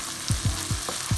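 Garlic and ginger frying in a hot pan for a chicken and fenugreek curry, a steady close sizzle with rhythmic stirring scrapes about every quarter second.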